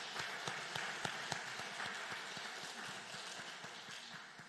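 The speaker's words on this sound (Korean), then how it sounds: "우리 할렐루야 찬양대 또 경배 찬양팀 축복하고 격려하는 박수 하도록 하겠습니다" A church congregation claps in appreciation for the choir and worship team, heard faint and distant. The claps are scattered and crisp, thinning slightly as the applause continues, with no one talking.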